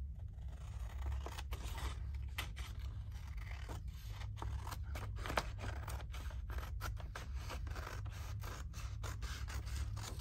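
Scissors snipping through paper while trimming pages for an envelope journal, a run of quick close cuts with soft scraping and rubbing over a low steady room hum, no talking.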